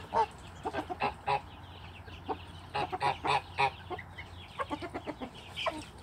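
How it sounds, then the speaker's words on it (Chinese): Near a mosquito lamp in the early morning, a rooster calls to its hens with a run of quick, repeated clucking notes in short bursts, close by against quiet surroundings. "公鸡不知道发现了什么好吃的，在叫它的母鸡。"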